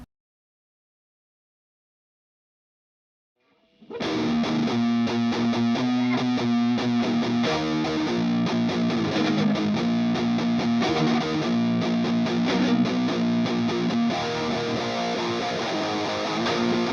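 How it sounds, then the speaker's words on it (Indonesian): Heavily distorted metal electric guitar bursts in after about four seconds of silence, then plays loud, dense, sustained chords and riffs without pause, with no voices. "Harus ada distorsi nih."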